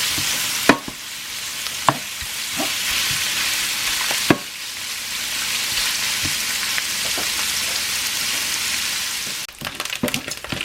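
Pork belly and garlic sizzling in vegetable oil for a stir-fry with bean sprouts, a loud steady fry close by, broken by a few sharp knocks of a utensil against the pan.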